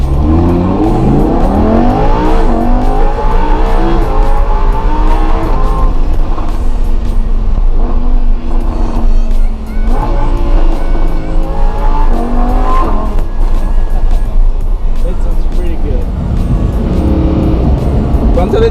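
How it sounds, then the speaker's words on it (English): A Lamborghini Huracan engine heard from inside the car with the side window down on a California drive: loud, close revs climb and fall repeatedly through the gears, with sustained engine roar throughout. "Let's try to hear the engine with the side window down."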